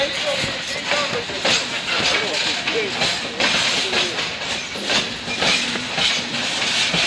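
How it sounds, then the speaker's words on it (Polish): A locomotive rolls along railway tracks with a continuous rumbling, rhythmic clatter and hiss, heard fairly close throughout while a person talks over it. "piękna lokomotywa się przytacza, kręcą się kółeczka"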